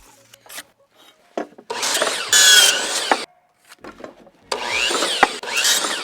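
Power saw cutting 1x6 wooden boards into slats for a firewood storage shed, two loud sustained cutting bursts with a whining blade between short handling knocks and quieter gaps.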